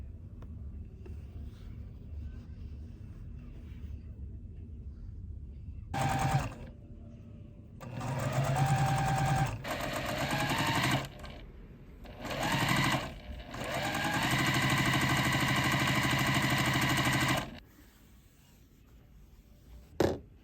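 Sewing machine stitching two quilt fabric strips right sides together with a quarter-inch seam, running in several bursts of steady mechanical whirring separated by short pauses, loud and close with no talk.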